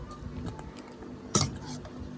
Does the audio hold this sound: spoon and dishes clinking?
yes